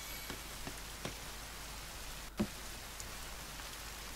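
Rain falling in the survival video game The Forest, a steady soft patter of drops on surfaces, with a few faint taps and one brief louder knock partway through and no speech.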